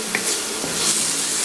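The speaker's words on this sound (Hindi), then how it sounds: "हल्का सा फ्राई कर लेते हैं" Onion and tomato frying in a pan with cumin and salt, a loud, close, continuous sizzle with a few light stirring scrapes and no talking.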